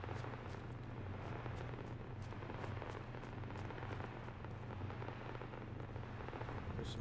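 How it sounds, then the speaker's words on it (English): Fire crackles and roars steadily in the Fallout 4 game world, a dense hiss with scattered sharp pops over a constant low rumble, filling the scene without a break. "There's some fire going on over that way."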